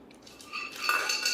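Light metallic clinks and rattles while a Butterfly pressure cooker and its lids are handled in a kitchen, close and fairly quiet, a short burst growing busier toward the end.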